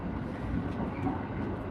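Sleeper train running along the track, a steady low rumble and rolling drone inside the carriage with no breaks or talk.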